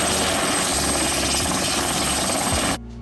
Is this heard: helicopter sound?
yes